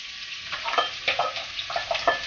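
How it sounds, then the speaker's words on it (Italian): A cinnamon stick and onion fry in a pan for a short stretch, a steady soft sizzle broken by a few light stirring scrapes and taps. "aggiungiamo la stecca di cannella e lasciamola soffriggere per 1 minuto"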